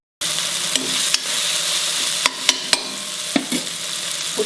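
Mixed vegetables frying in a pan on a gas stove, a loud, steady sizzle that starts abruptly, broken by a few sharp scrapes and knocks of a spoon stirring.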